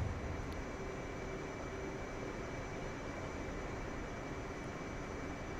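Steady, continuous jet engine drone of an aircraft taxiing toward a carrier catapult in the DCS flight simulator game, a constant broadband roar with a faint tonal whine, heard alone without talk.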